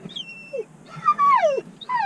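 Jess, a dog, whimpers and lets out high, wavering howling whines in short bursts, close by and fairly loud, left behind in a caravan while owners walk away.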